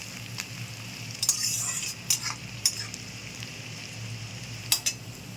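Packet tadka spices and turmeric being mixed in a pan: close, scattered spoon scrapes and light clinks against the metal over a low steady background hum.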